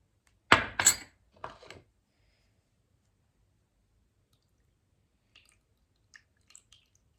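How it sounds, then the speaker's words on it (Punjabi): A few wet, squelching squeezes close up as water is wrung out of curd, bunched in the first two seconds, then near silence with faint drips and small clicks. "ਇਸ ਤਰ੍ਹਾਂ ਆਪਾਂ ਨਿਚੋੜ ਲਿਆ ਦਹੀਂ ਨੂੰ"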